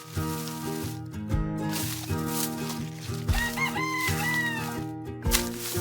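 A farm rooster crows once in the middle, a clear rising and falling call over steady background music, with no talking.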